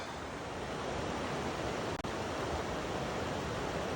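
Steady broadband rush of Campbell's Falls at Camp Creek State Park in southern West Virginia, a partly frozen waterfall in bitter cold, roaring continuously and fairly close with no voices.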